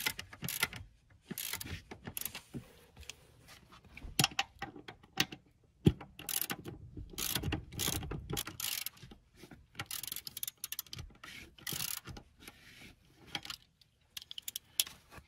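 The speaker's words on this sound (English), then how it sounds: "tighten these bolts back down." Ratchet wrench tightening seat bolts in a Toyota Tundra: rapid close clicking pawl ratchets in uneven bursts, with metallic clinks and handling noises between, no speech.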